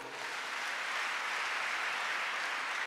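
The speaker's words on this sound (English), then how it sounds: "Give Jesus a clap offering." Church congregation clapping together in a steady, dense burst of applause, loud and continuous for the full stretch with no voices over it.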